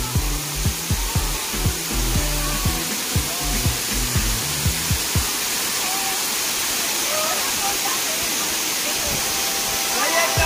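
Water rushes steadily at Powai waterfall in Mumbai, a broad continuous roar filling the whole span, with heavy low thumps and handling noise at the start.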